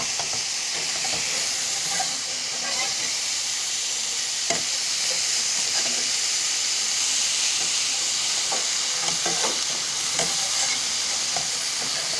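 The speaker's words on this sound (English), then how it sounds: "You gotta let the sausages cook" Sausages frying in a pan, a steady close sizzle and hiss with occasional pops and crackles, continuing alone without talk.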